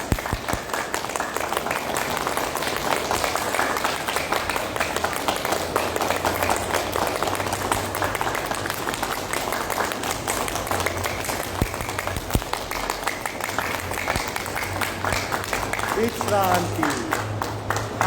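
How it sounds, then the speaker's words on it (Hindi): Loud, steady hand clapping during a yoga exercise, a fast continuous stream of claps lasting throughout, with a voice talking over it at times. "ताली बजाएंगे जोर से"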